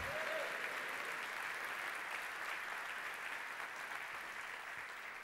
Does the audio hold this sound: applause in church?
yes